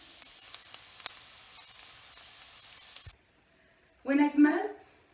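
Garlic and thyme sizzle softly in a pan over low heat, forming the base of a mushroom sauce. Quiet frying crackle runs under a voice, then cuts out, followed by a short louder burst.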